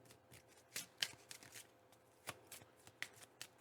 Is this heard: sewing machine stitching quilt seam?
no